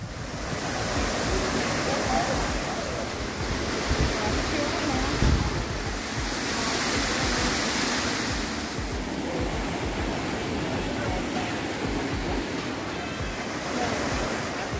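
Waterfalls at Fuentes de Algar in Spain give a steady, dense roar of rushing water that continues without a break, with a faint gust or two passing over it.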